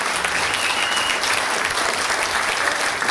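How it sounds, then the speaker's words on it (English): Audience applause fills the room at a steady, dense level, sustained clapping from a crowd at a live storytelling event with no pauses. "Big hand for the crowd here."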